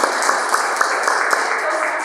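Brief, steady clapping from a Toastmasters club audience welcoming new members fills the room evenly, with a voice faintly audible underneath.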